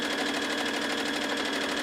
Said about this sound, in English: Now we can go back to sewing